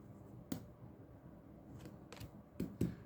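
Tarot cards being shuffled by hand, giving a few soft papery riffles and slaps over a quiet room hum, brief and fairly faint.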